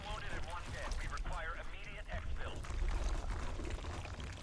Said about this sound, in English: Love the sound of icy water.